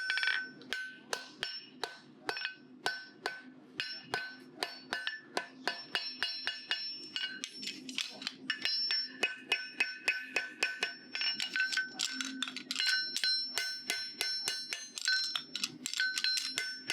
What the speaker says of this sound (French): je viens avec le plat du marteau sur la base du pinceau, et je vais vers la pointe